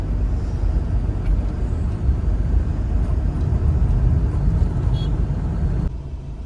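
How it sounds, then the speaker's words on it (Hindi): Steady road traffic on the highway toward Shimla near the Pinjore turn, a continuous low rumble of slow-moving cars and vehicles heard from inside a car, constant and fairly loud, dropping off abruptly near the end. "ये देखो भाई ट्रैफिक"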